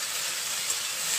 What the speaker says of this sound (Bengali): ঢেঁড়স ভাজি করে নিচ্ছি